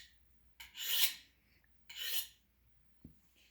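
Knife blade drawn across a whetstone in two separate slow, rasping strokes, each a rising-and-falling gritty scrape, with a small knock between and quiet surroundings.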